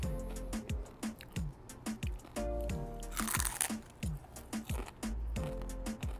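Crisp, close crunches of biting and chewing a fried chicken skin chip at a Filipino street food spot, repeated bite after bite in an uneven rhythm with no talk.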